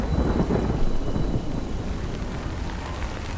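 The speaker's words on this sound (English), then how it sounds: "it's raining" Thunder rumbles loudly over steady rain in the Death Stranding video game, with a deep, close roll early on that fades into the ongoing downpour.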